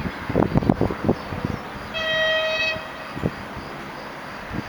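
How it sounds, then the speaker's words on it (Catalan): A train runs through Mollet Sant Fost station on track 2 without stopping, giving a long steady horn blast amid rattling, clattering wagon noise that rises and fades. "Tren sin parada por Vía 2."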